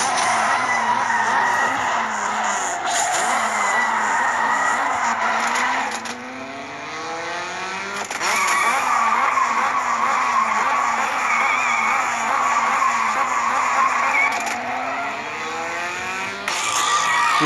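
Race cars in the mobile racing game Race Kings, engines revving and tires squealing in long skids, loud and close, with sweeping pitch shifts as gears change.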